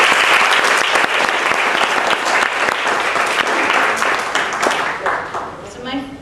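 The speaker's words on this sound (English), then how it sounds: "let's give her an applause" An audience at a panel discussion gives a panelist a full round of applause, loud and dense throughout before tapering off as a voice begins talking at the close.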